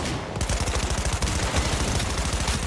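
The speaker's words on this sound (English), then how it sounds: "You're shooting at police!" Rapid gunfire in a video game on Nintendo Switch 2, aimed at police: a dense, continuous automatic burst with fast, evenly spaced shots that stay loud and close for the whole stretch, with no talk over it.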